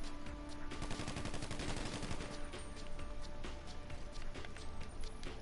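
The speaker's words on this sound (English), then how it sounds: "I'm getting shot from the side, I think." Rapid gunfire in GTA 5 Online during a heist shootout, dense overlapping bursts of shots running continuously and loudly throughout, with a voice speaking briefly underneath.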